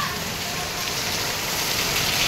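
Heavy monsoon rain pours down in Mumbai, a dense, steady wash of hiss with no distinct drops and no talk.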